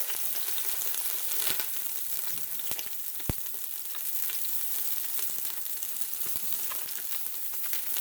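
Ranch and brown gravy mixes being stirred into a pot roast in an Instant Pot, a soft continuous sizzle with scattered light clicks and scrapes of the utensil, no talking.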